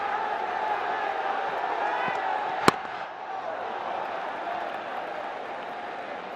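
Crowd noise fills a packed cricket stadium during a Bangladesh Premier League qualifier, Fortune Barishal against Chittagong Kings, as a steady roar of fans carries on. One sharp knock cuts through midway.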